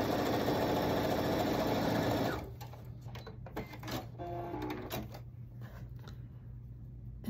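Sewing machine running quilt fabric pieces through a seam, a loud continuous close whir for about two seconds that cuts off, followed by quieter handling noises and a low hum.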